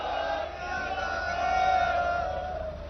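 A crowd at a political rally shouts the Sikh jaikara war cry together, a sustained massed roar of many voices held for a few seconds.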